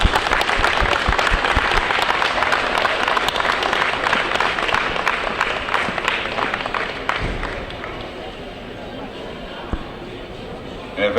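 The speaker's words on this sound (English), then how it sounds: "we owe them a nice, good, generous round of applause." A crowd at a retired military event applauds veterans, a sustained round of close clapping that thins and fades toward the end while voices talk underneath.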